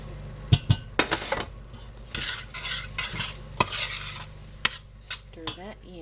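Cooked meat is stirred into macaroni and cheese in a pan: close, repeated scraping and clinking of a utensil against metal over a soft, steady sizzle, with no talking.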